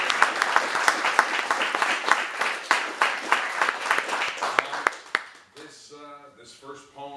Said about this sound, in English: Give a round of applause for your host.